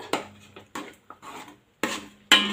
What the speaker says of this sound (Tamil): இதை நல்லா இப்படியே கிளறி விட்டுருங்க